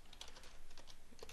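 Quick keystrokes on a computer keyboard while entering code, a short run of light, irregular clicks at close range.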